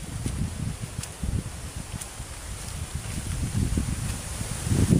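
Gusty typhoon wind roars in low rumbling surges with a steady rustle of tree leaves, buffeting the microphone and growing stronger toward the end.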